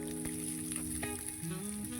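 Chopped onion and curry leaves roasting in a pan over low heat, a steady soft sizzle with a few clinks of a spoon stirring, close and constant throughout.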